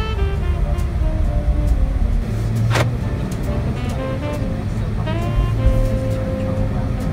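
A Jeep drives in four-wheel drive, its engine and road rumble loud, steady and close from inside the cabin, with occasional faint higher clicks and whines over the drone.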